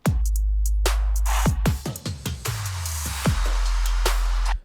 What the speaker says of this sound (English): I brought in some tom drums.